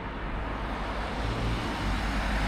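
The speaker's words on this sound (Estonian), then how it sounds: "autod sõidavad mööda kogu aeg" Steady road traffic on a busy arterial road near Paljassaare and Pikakari beach, cars and heavier vehicles rolling past continuously as a dense, fairly loud rumble with no clear gaps, heard alone.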